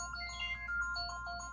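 The classic iPhone ringtone plays its bright, repeating marimba-like melody, clear but fairly quiet, with no voices over it.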